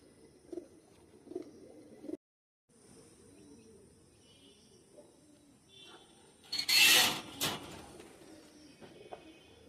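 Pigeons coo softly in a loft in short low bursts, faint and spaced apart, with a brief silence and then a loud rustling flurry, likely wings, partway through.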